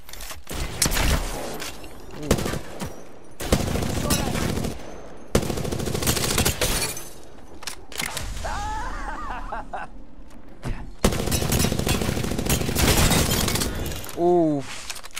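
Video game gunfire in repeated heavy bursts of automatic shots separated by brief pauses, loud and close, with short vocal reactions and a few chirpy effects between volleys.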